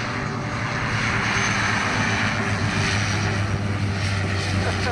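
Steady droning roar of a helicopter flying overhead at a remote mud crab and barramundi fishing spot, engine and rotor noise continuous and fairly close, with no speech.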